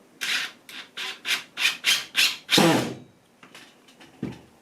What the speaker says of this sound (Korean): 마지막 작업으로 네 번째 나사 들어갑니다